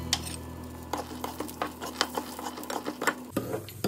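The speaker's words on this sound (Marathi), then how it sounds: "हे आपण ह्याच्यामध्ये छान भाजून घेऊया" Peanuts dry-roasted in a pan for drumstick curry, stirred with a utensil that makes repeated light scraping and rattling clicks over a steady low hum.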